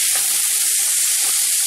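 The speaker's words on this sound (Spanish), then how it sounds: "es momento de agregar lo que es nuestro jitomate picado. Y vamos a esperar a que se fríen" Chopped tomato fries in a pan for Mexican-style lentils, giving a loud, continuous, close-up sizzle and hiss with no pauses.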